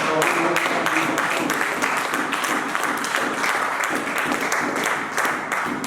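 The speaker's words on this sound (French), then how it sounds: "Acclame Jésus-Christ." A church congregation bursts into sustained applause and cheering at an evangelistic revival service, a dense, loud wash of clapping that continues steadily for about six seconds.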